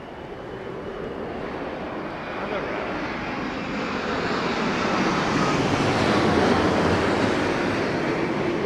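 Airliner landing at London Heathrow during Storm Darragh, a broad steady engine roar mixed with heavy wind noise that swells gradually toward the end, loud and continuous with no talk.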